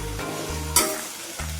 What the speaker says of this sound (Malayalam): ഇത് ഉപ്പിട്ടിട്ട് നന്നായിട്ടൊന്ന് വഴറ്റിയെടുക്കണം.